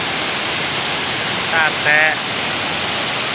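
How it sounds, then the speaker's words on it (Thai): Water rushes steadily at Tad Sae waterfall near Luang Prabang, a loud, even wash of noise filling the scene while a person speaks briefly over it. "น้ำไหลเย็นสบายใสสะอาดหลาย"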